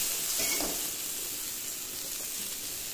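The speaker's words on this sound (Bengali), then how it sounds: "অর্ধেকের বেশি ভাজা হয়ে গিয়েছে" Sliced bitter gourd frying in oil in a pan, a steady close sizzle and hiss with a brief stirring scrape near the start.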